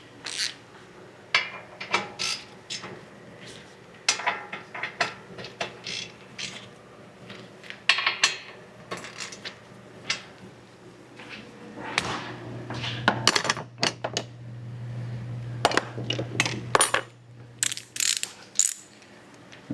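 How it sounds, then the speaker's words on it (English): A ratchet snugs up brake caliper bolts on a car during a front brake job, giving bursts of quick metallic clicks in an uneven rhythm, close by with no talk. "I'm going to snug that up with our ratchet"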